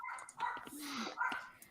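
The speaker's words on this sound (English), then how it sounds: "I'm sorry, that is my dog, and he's upstairs, and he's that loud." A small Pomeranian, Chihuahua and Jack Russell cross dog barks upstairs, a few muffled distant yaps heard indoors under people talking nearby.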